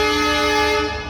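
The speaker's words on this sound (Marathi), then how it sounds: "हॉर्न जाम मारतो ही" A Vande Bharat train sounds a loud, sustained tonal horn in a single blast of about a second, heard up close.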